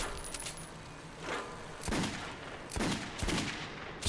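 Gunshots in Metro 2033 Redux, fairly faint: several separate bursts of broadband shots spaced about a second apart over steady background noise, with no speech.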